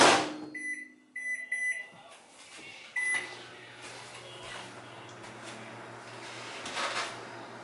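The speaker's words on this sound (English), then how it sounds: "this is going to go in the microwave and get thawed a little bit" Beeps from a microwave's keypad, a door clunk, then the steady low hum of the oven running as it thaws frozen food, with faint rattles and movement nearby.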